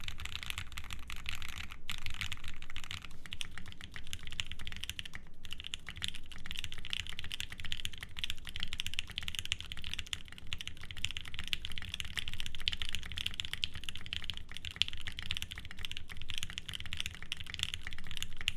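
Steady, fast typing on an Aurora Input Series 65 mechanical keyboard, dense close-up clacks in a continuous stream with no talking.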